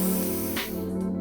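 A breathy yoga exhale pushed through a constricted throat with the mouth closed gives a soft, steady wheezing hiss up close, a single breath that swells briefly and then tapers off.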